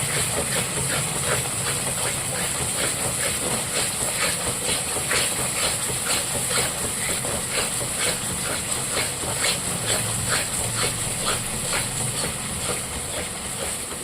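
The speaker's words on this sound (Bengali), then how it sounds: "এবার এটা আমি মশলাটাকে ভালো করে কষিয়ে নেব" Spice masala with Kashmiri red chilli powder sautés in a pan for golda chingri malaikari, a loud, continuous hissing sizzle with faint rhythmic scraping pulses running steadily underneath.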